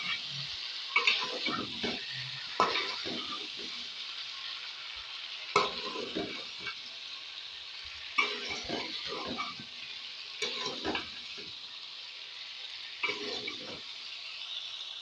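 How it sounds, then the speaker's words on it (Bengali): Potatoes being stirred and fried in a pan for aloo kosha, a steady sizzle broken by repeated scraping stirs in an uneven rhythm, close and moderately loud, with no voices. "এইভাবে অন্তত 5 থেকে 6 মিনিট নাড়াচাড়া করতে হবে, এটাকে কষিয়ে নিতে হবে।"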